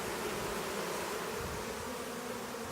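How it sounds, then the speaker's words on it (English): Honey bees buzzing steadily at an open hive with free comb on the Big Island of Hawaii, a dense continuous drone of many wings close by, with no voices. "Happy bees here in the big island of Hawaii."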